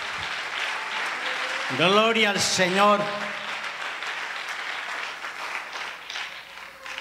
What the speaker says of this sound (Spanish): Si le va a dar fuerte el aplauso a Cristo,